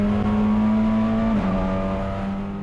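Honda Civic Type R touring race cars at Indianapolis Motor Speedway, the leader on the final lap, with a loud sustained engine drone holding a steady pitch, then a brief dip and shift around mid-clip as the car passes close by.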